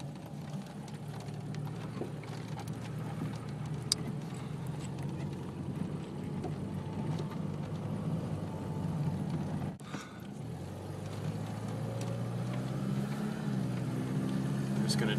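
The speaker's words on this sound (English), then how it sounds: "Just gonna drive around and listen to the car real quick." A 1982 BMW 325 with a three-speed automatic transmission driving along at about 30 mph, giving a steady low engine and road rumble that continues throughout, with a brief dip partway through.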